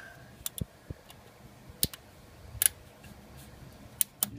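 Pliers on a hose clamp at a Ford Explorer 4.0L water pump hose, giving scattered sharp metallic clicks and snaps, close and isolated, with quiet gaps between them.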